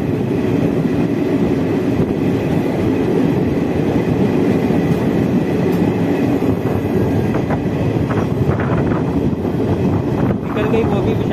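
A Visakhapatnam–Shalimar express train passes close by, a loud, continuous rumble with rolling wheel clatter and wind buffeting that holds steady for the whole stretch.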